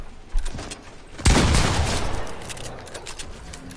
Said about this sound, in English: He shot me with the shotgun.